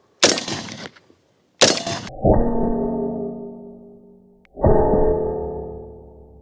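Steel-core ZR-15 combat rounds fired at a Ukrainian ceramic armour plate: two sharp, loud blasts close together, then two long, ringing metallic tones that slowly fade.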